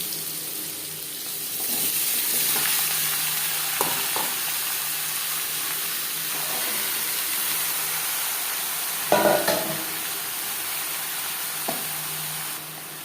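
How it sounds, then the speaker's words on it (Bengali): Whole cumin seeds and bay leaves sizzle steadily in hot oil, with bottle gourd added soon after, a continuous bright frying hiss broken by a few sharp spatters and the clink of stirring. "গোটা জিরে তেজপাতা পনেরো কুড়ি সেকেন্ড ভেজে নেওয়ার পর দিয়ে দেবো লাউ"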